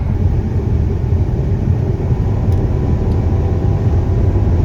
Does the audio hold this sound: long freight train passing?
yes